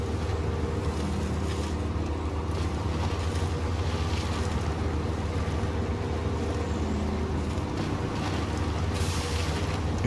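A powerful truck engine in the off-road driving game Snowrunner roars in a dense, continuous low rumble mixed with rushing noise, loud and unbroken throughout, with no speech.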